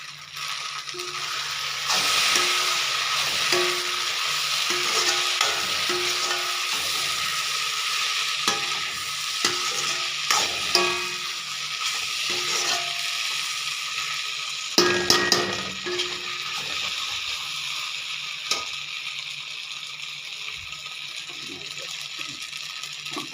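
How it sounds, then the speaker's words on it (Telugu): Pasta with masala and coriander frying in a pan, a constant close sizzle overlaid by irregular scraping and tapping of a spoon against the pan, with a sharper clatter midway and light talk now and then. "కొత్తిమీర వేసి ఒక్క నిమిషం అట్లా వేయించి స్టవ్ ఆఫ్ చేసుకోవటమేనండి"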